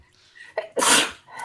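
A single sharp sneeze bursts out close and loud after a brief inhale, followed by a softer breathy sound.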